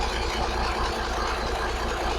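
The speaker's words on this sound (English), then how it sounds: "The thing is just sitting here idling." A 1983 Kenworth A-model cabover truck's engine idles steadily up close, a continuous low diesel rumble with a faint rhythmic knock and no voices.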